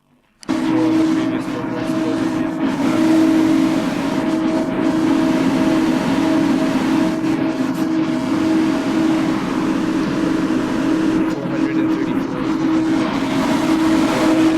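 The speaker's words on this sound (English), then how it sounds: "That's today's dyno run." A BMW F30 340 on a Stage 2+ tune roars on a dyno run, starting abruptly and then holding a loud, sustained, even drone for about fourteen seconds with steady pitch.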